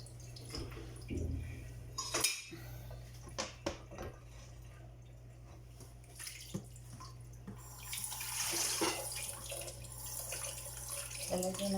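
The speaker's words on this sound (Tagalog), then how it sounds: "Hugasan natin siya ng maayos." Raw chicken is rinsed under a running kitchen tap, with continuous flowing water broken by irregular splashes and knocks, over a low steady hum.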